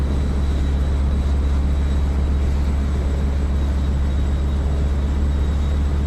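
A simulated Stearman biplane radial engine runs steadily after its mixture is leaned, a constant low droning hum with no change in level throughout.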